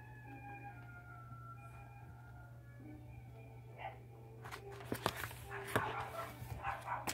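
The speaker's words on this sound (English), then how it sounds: "Sorry if you hear my dogs barking out there" Several dogs bark outdoors at a distance, sharp bursts clustering in the second half over a steady indoor hum, faint and somewhat muffled.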